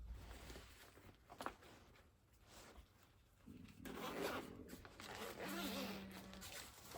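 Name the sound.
unzipping an Alpinestars airbag vest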